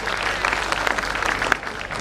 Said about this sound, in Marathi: टाळ्यांचा जोरदार गजर करूया